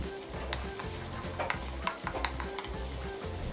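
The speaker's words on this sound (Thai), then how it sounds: "ใส่น้ำมันพืชลงไปเล็กน้อยนะครับแล้วตามด้วย3เกลือ2ช้อนโต๊ะเราจะผัด3เกลือของเรานะครับให้แตกกลิ่นหอมเลยนะครับ" Thai sam kleua paste of garlic, coriander root and pepper is stir-fried in a little vegetable oil, giving a continuous sizzle with repeated scraping and stirring strokes and occasional spatula clicks, close by, with no talking.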